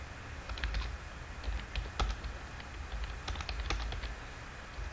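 Quiet, steady keyboard typing at a computer while writing C# code, with irregular clusters of soft key clicks and no talking.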